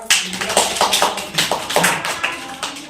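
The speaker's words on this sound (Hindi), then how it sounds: "इसके लिए ताली बजाओ।" Children in a primary classroom clap in a quick, loud, close burst of uneven hand claps lasting a few seconds during a class activity.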